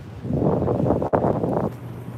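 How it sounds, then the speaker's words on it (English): Steady wind buffets the microphone with a roaring rush on a Manhattan street in the evening, briefly dipping midway before gusting again. "This bloody road is windy."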